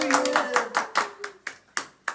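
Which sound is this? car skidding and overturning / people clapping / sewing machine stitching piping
people clapping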